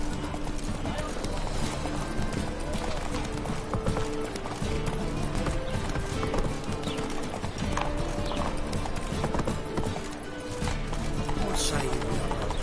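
A horse galloping in The Witcher 3 video game, with steady, rapid clip-clop hoofbeats and a dense, busy game soundscape that stays loud throughout, with voices speaking over it.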